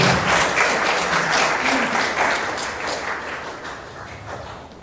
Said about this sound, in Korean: 큰 박수로 주세요